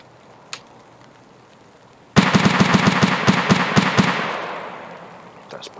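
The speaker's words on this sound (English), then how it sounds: "There's plenty of shooting." Automatic gunfire in Escape from Tarkov breaks out suddenly after near-silence, a loud rapid burst of closely spaced shots that trails off into a decaying echo.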